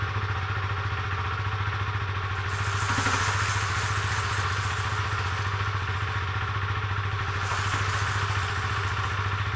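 A motorcycle engine runs steadily at close range, giving a throbbing mechanical drone with a light clatter. The pitch shifts slightly as it works up through the gears.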